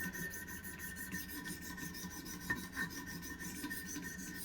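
A Wicked Edge Pro-Pack III knife sharpener grinds a blade with a coarse 50 grit stone, giving a continuous harsh rasp in rapid repeated strokes, close and steady with no voices.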